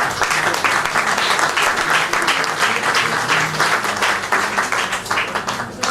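Loud, dense audience applause at a graduation ceremony honoring program graduates, continuous full-room clapping that stays strong for the whole stretch before easing slightly.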